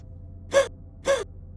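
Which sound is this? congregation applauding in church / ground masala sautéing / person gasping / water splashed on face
person gasping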